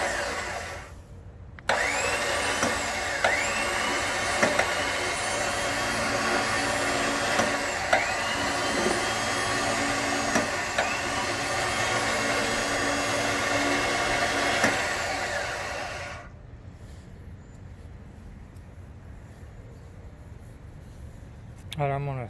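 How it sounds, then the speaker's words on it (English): An X Bull electric winch, worked by remote, reels in rope with a loud, steady whirring motor whine that runs for around fifteen seconds before cutting off and leaving a quiet background. "I'm going to reel the rest of this in a little bit, but you can see that it works with the remote"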